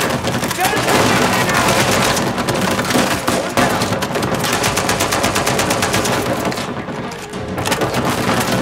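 Sustained turret machine-gun fire in Uncharted 4 rattles almost continuously for several seconds, dense bursts with booming impacts, easing briefly near the end before resuming, loud and close.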